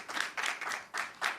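An audience claps in brief, fairly faint bursts of applause, distant and a little hollow, with no clear cheering or voices.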